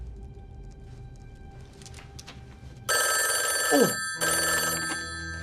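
Old-style telephone bell ringing loudly in two bursts after a quiet room tone with faint background sounds, a short pause between rings and a brief exclamation from a voice.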